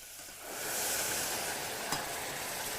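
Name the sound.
stock sizzling as it deglazes a hot pan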